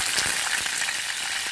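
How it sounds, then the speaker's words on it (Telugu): Green chillies fry in two spoons of oil in a pot on the stove, giving a close, steady hiss of sizzling oil dotted with small crackles and pops, with no talking. "ఇప్పుడు స్టవ్ మీద ఒక గిన్నె పెట్టుకున్నాం, దానిలో 2 స్పూన్ల నూనె వేసిన తర్వాత పచ్చిమిర్చి వేయించుకుందాం"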